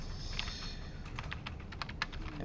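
Steady, fairly quiet clicking of keys on a computer keyboard during a recorded class lecture, with irregular taps and a few sharper strikes over a constant background hiss.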